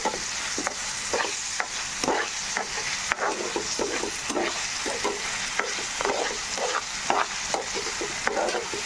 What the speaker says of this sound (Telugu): అల్లం పచ్చి వాసన పోయేదాకా ఫ్రై చేసుకోవాలి, ముక్కకి బాగా పట్టేదాకా